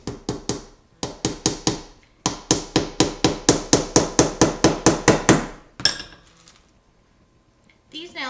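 Hammer blows drive 1 1/4 inch finishing nails into wooden beehive frames, a loud rapid series of sharp taps in three bursts, then a brief scrape and a quiet pause with no talk.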